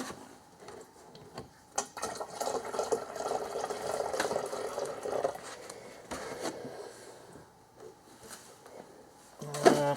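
Water poured into a jug to mix Ford Gold coolant: a few seconds of gushing, splashing fill, then quieter trickles and small handling knocks.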